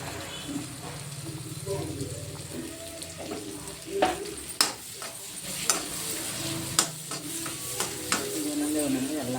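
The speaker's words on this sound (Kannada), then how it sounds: "ಇವಾಗ ಇದಕ್ಕೆ ನೆಕ್ಸ್ಟು ನಾವು ಹೆಚ್ಕೊಂಡಿರೋಂಥ ಈರುಳ್ಳಿ ಹಾಕ್ಕೊಂಡು ಬಾಡಿಸ್ಕೋಬೇಕು" Chopped onions sautéing in a pan for paneer butter masala: a moderate, steady sizzle broken by sharp spatula clicks and scrapes, with a faint murmur of voice underneath.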